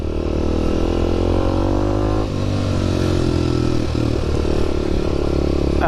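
A Kawasaki KLX250SF motorcycle engine runs continuously, a loud steady rumble with layered harmonic tones, a brief dip and shift in pitch midway, heard close up.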